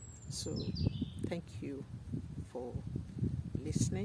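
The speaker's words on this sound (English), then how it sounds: "I hope some of you can hear the birds singing in the background." Birds chirping and singing in woodland, short bright calls scattered across the scene at moderate distance, mostly beneath a person speaking close by.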